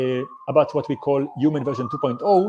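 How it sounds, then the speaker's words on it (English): A police siren wails faintly on a New York street in the background, a steady rising tone running under someone talking close by. "I'm sorry about the sirens in the background."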